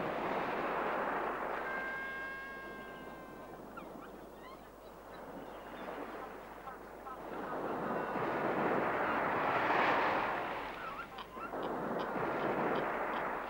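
Upland geese honk and call repeatedly at a distance in the Falkland Islands over a steady wash of wind or water noise, with a brief whistling note early on.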